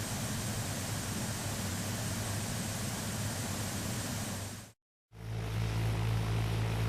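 An airplane in flight gives a loud, steady engine and wind roar that cuts out abruptly for a moment, then resumes with a deeper, droning hum.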